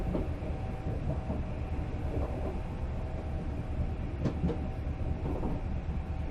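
Train rolling along tracks in the video game Fear Equation: a steady low rumble of wheels and carriage noise runs throughout, with a few faint metallic clicks partway through.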